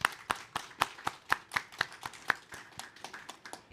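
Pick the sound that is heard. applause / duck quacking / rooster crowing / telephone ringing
applause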